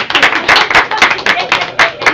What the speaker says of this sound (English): Can we actually clap out?